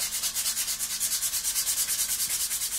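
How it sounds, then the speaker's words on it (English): Steady rhythmic rasping of a coarse sponge sanding a model's surface, back-and-forth strokes repeating evenly, close and moderately loud with no talking. "So we're just sanding right over the top."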